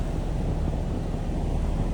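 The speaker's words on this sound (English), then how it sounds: "So it's very windy." Strong wind of about 20 miles per hour buffets the microphone in a constant low roar, with a faint engine hum underneath.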